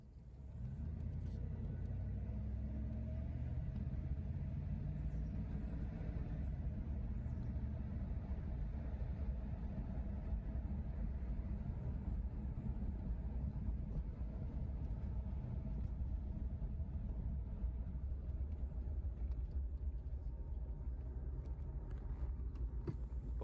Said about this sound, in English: Time to show you the bad transmission. It goes forward.